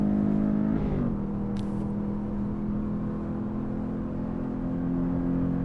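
A Porsche 914 engine drones steadily under throttle on a race track, with a brief rise in pitch near the start before it holds a sustained, close, loud note. Nobody speaks.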